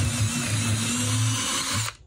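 A power drill whirs steadily for almost two seconds, its pitch wavering slightly as it bores, then cuts off abruptly.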